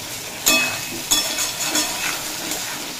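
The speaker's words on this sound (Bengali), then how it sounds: "দিয়ে খুব ভালোভাবে কষিয়ে নেব" Chillies, ginger, tomato and spice paste frying in a pan, a steady loud sizzle broken by sharp scraping clinks of a spoon stirring against the metal, with no voices.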